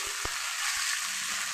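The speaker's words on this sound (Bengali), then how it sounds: "মশলাটা আমার কষানো হয়ে গেছে," Bengali spice paste frying in oil until it releases the fat, a soft steady sizzle with a few light knocks of a spatula, quiet and close.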